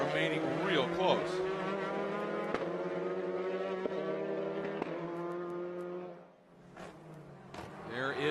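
TCR touring race cars in a TC America race at St. Petersburg accelerate onto the front straight, their engines rising in pitch as they pass. A commentator talks over the cars throughout, and the engine noise dips briefly near the end.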